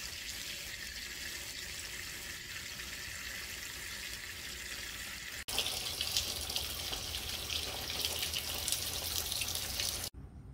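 Chili peppers are washed under running tap water, a steady close splashing stream that grows louder and brighter halfway through, then cuts off abruptly at the end.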